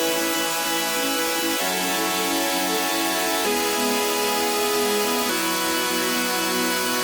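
Layered future bass synth chords run through OTT, distortion and sidechain pumping, with a dense, bright, sustained harmonic texture shifting through four chord changes, loud and continuous with no talk.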